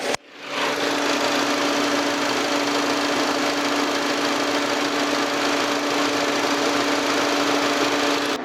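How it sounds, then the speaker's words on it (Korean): A Volkswagen Passat 1.8 TSI R-Line with its hood open idles steadily, a smooth, even engine hum with a faint high whine, close up and uninterrupted after a brief start. "나가서 엔진 소리 들어보도록 하겠습니다"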